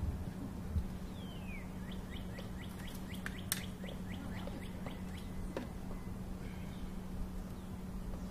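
Birds chirp and sing outdoors at a lake in a repeated series of short, bright calls over a steady low hum, fairly faint and distant, with no voices.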